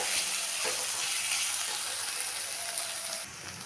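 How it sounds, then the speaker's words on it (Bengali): Ginger and garlic paste frying in a pan, a steady close hiss and crackle of sizzling oil with no pauses. "আদা রসুনটাকেও একটু ভেজে নেব।"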